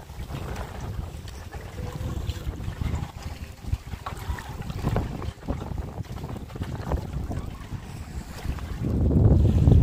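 Steady wind buffets the microphone over choppy water slapping against a fishing boat in the Sundarbans, growing rougher and louder toward the end.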